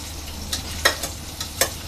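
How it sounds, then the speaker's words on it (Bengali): Chopped onion with a little salt frying in hot oil, a soft steady sizzle broken by a few quick scraping stirs, close and alone. "আমি ভালো করে আগে পেঁয়াজটাকে ভাজা ভাজা করে নেব"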